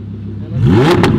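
A 2018 Audi R8 V10 fitted with an ARMYTRIX exhaust, valves open, rises from a low idle into a loud, close rev, its pitch climbing steeply before a couple of sharp blips near the end.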